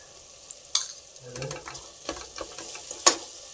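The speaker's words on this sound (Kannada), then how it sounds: "ಇದನ್ನು ಸ್ವಲ್ಪ ಹಸಿ ವಾಸನೆ ಹೋಗೋವರೆಗೂ ಸ್ವಲ್ಪ ಅಲ್ಲ ತುಂಬಾ ಹಸಿ ವಾಸನೆ ಫುಲ್ ಹೋಗೋವರೆಗೂ ಒಳ್ಳೆ ಫ್ರೈ ಮಾಡ್ಕೊಳ್ರಿ" Onions with ginger garlic paste frying in a pan for egg pulao, quiet sizzling broken by a few sharp spoon clicks and scrapes.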